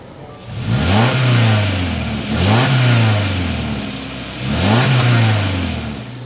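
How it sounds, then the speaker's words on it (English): A 2024 Subaru Crosstrek with a 2.0-litre engine revs loudly and close up in three sharp throttle blips, each rising and falling, with its exhaust note swelling over a steady running engine and no talk. "start it up so you can hear that exhaust though."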